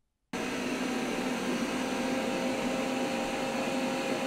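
An Eufy Robovac X8 Hybrid robot vacuum in turbo mode kicks on suddenly and roars at a loud, constant whine with a faint tonal hum, close by and uninterrupted, no talking.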